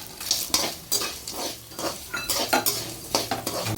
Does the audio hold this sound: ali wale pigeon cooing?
no